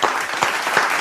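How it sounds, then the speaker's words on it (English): Applause fills the clip, a dense patter of claps from a crowd with a few louder individual claps standing out. "Is that a slow clap?"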